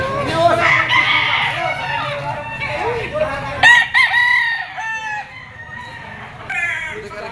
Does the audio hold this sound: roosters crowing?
yes